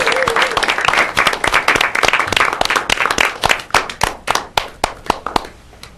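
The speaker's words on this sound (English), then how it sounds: "Can we have a big round of applause for her to sing for us?" A talk show audience gives a loud burst of applause for a singer's entrance. The sharp claps thin out into scattered single claps toward the end, and a voice is briefly heard at the start.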